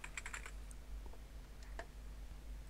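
Keys clatter on a computer keyboard in quick, uneven bursts of clicks, faint and close, over a low steady electrical hum with no talking.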